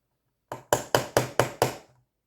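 Six sharp metallic taps of a hammer on a center punch marking a drill spot on a Squier Mustang guitar, in quick, even succession, close and fairly loud, with nothing else around them.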